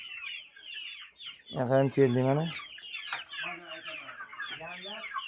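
Atak roosters being sold cluck and call close by, with one loud harmonic burst standing out amid a chorus of calls, while someone speaks briefly over them.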